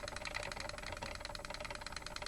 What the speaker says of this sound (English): The old chattering teeth.